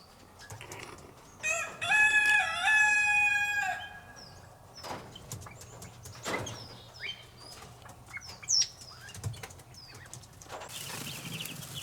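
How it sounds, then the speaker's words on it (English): Penned pheasants from last year's and this year's hatch, giving a harmonic crowing call, then scattered clucks, chirps and bursts of flapping wings at moderate distance, with no talk. "These are last year's and this year's pheasants."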